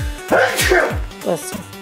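A single sharp sneeze bursts out indoors while cats are shown a cucumber. A voice speaks before and after it.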